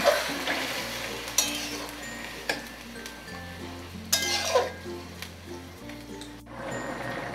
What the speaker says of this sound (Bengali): ফোড়নের সঙ্গে শাক সবজি ভালো করে মিশিয়ে দেব।